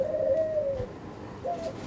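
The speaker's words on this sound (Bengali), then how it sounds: "একদম বিগ সাইজের ডায়মন্ড ডাভ এবং খুবই অ্যাক্টিভ" A diamond dove gives a soft, drawn-out coo, then a second brief coo starts near the end; close and fairly clear over a quiet background, with no talking.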